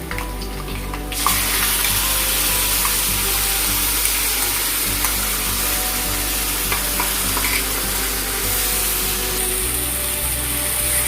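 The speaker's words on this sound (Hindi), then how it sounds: "इसको ऐसे ही चलाना पड़ेगा थोड़ा सा गोल्डन ब्राउन होने तक" Onion and spice mixture frying in a pan for egg korma gives a loud, continuous sizzle. Stirring adds occasional scraping and shuffling over the hiss.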